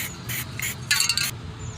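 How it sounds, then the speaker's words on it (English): An aerosol spray paint can hisses onto a car's rust spot repair in three or four short bursts, the last one longest and loudest, close up with no talking. "Spray a little bit more on it this time"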